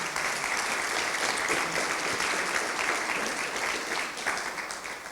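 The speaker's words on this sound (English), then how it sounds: "the applause was for that you were on time" Steady audience applause fills a conference hall after a talk, many hands clapping densely and evenly at close range for about five seconds, with faint voices barely present underneath.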